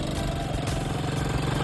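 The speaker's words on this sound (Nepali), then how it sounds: "हाम्रो अब नानीलाई अफरोडिङ बाइक चलाउँछ" A small off-road bike engine runs steadily at a close, even idle-like drone with a fast regular pulse, no voices over it.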